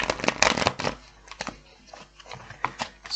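Tarot cards shuffled in quick bursts of riffling and slapping, loud and close at first, then a few sparser card flicks and taps, with no talking.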